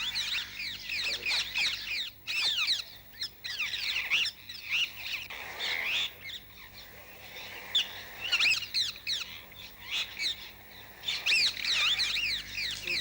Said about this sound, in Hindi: इस पेड़ पे जो चिड़िया लगातार चै चै कर रही है